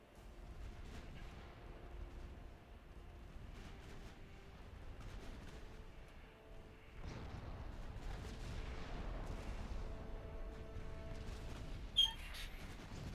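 Warship secondary guns in Ultimate Admiral Dreadnoughts thud repeatedly at a distance, a faint rolling series of booms over low battle rumble with one sharper crack near the end.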